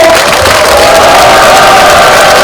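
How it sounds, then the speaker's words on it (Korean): A large crowd at a Korean lawmaker's constituency report meeting in Yeongju cheers and applauds loudly and steadily, a dense, continuous roar of voices and clapping with occasional whoops rising above it. "여러분 다 함께 큰 박수와 함성 보내주십시오"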